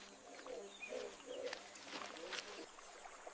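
A soft, low cooing from a dove repeats three or four times in a gentle rhythm, faint and close, with a few light background noises and no speech.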